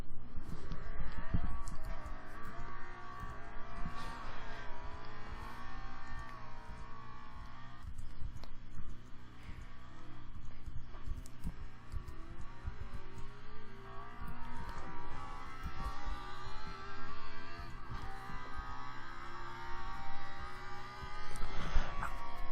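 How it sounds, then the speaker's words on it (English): An engine revs and accelerates hard from a red light in Roblox Greenville, a loud sporty tone climbing through several gear changes over a steady drone, with no talk. "So at this red light, let's do the acceleration test in 3, 2, 1."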